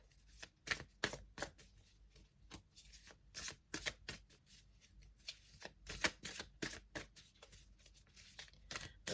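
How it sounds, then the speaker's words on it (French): A deck of cards is shuffled by hand, its quick riffling bursts repeating in an uneven rhythm, close-up and fairly quiet, with no talking. "on va mélanger un petit peu avant de faire la coupe"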